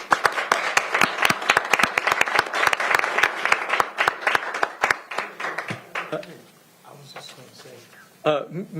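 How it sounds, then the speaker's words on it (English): A room of people at a county council meeting claps steadily for several seconds, with sharp individual hand claps that thin out and stop, then voices talk briefly. "Let's give her a round of applause."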